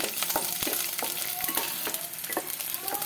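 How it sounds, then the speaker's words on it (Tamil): Garlic sizzles in hot oil in a pan, a steady crackling fry with repeated sharp scraping taps of a stirring utensil, close and alone. "இப்போ நமக்கு எண்ணெய் நல்லா சூடாயிடுச்சு இந்த சமயத்தில் நான் வந்து பூண்டை சேர்த்துக்கிறேன் சேர்த்துட்டு நல்ல வாசனை வர்ற வரைக்கும் நல்லா நம்ம வந்து வறுத்துக்கலாம்"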